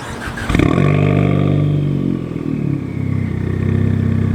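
A manual 2018 Ford Focus ST engine cranks briefly via push-button start and catches, then idles with a loud, lumpy rumble that settles and grows throatier, close and uninterrupted by speech.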